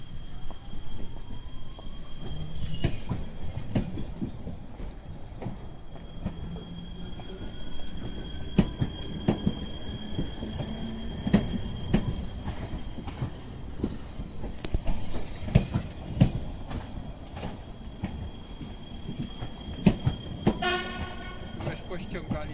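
A train at Łowicz Główny station rumbles past with rhythmic wheel clatter, squealing wheels and horn blasts, moderately close, while people talk intermittently over the noise.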